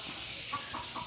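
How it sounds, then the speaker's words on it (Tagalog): A chicken gives a few short clucks in quick succession, moderately faint against a steady hiss of background noise. "Ang ingay ng manok namin, ang ingitlog."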